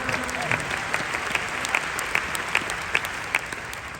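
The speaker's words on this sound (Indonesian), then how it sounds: "Let's clap our hands." A church audience claps together for about four seconds, a steady dense patter of many hands with a few sharper claps standing out, fairly close and loud, with no voices on top.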